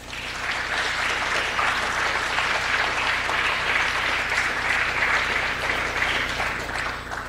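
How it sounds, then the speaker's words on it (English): Sustained applause from a seated audience at a tech conversation event, a broad, continuous wash of clapping at moderate loudness, holding steady before tapering slightly at the end. "could we have a round of applause for John"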